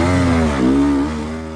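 Enduro motorcycle at a hard enduro race climbing a section on steady throttle, a close, loud engine drone with a brief dip and recovery in pitch before easing off.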